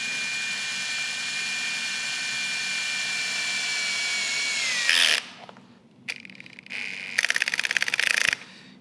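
A power drill with a Phillips number 3 bit driving screws into the sides of a toilet on a very low clutch setting: a long steady high whine, then a drop, short bursts and a rapid ratcheting clutch clatter.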